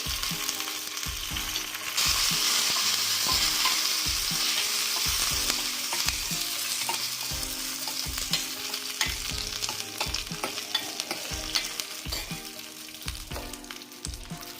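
Curry leaves and dried red chillies sizzle steadily in hot tempering oil for a rasam, with a constant frying hiss and repeated clicks of stirring against the pan throughout, no voices.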